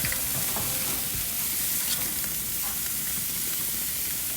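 Ribeye steak pieces with rendered fat sizzle and fry steadily in a hot pan, a loud, continuous crackling hiss with occasional stirring, no voices.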